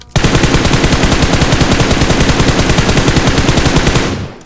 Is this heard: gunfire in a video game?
yes